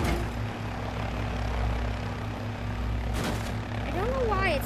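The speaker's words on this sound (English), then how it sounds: "Turn on the dang engine." A vehicle engine runs in the video game Bonelab, a steady droning hum with a propeller-like tone held throughout, while someone talks over it.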